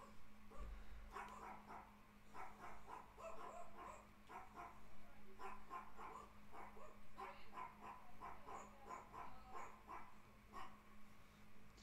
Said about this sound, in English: Go away, dogs.